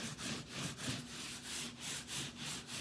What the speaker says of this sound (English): Listen to the differential in noise between my rubbing my hand on the wall surface in one area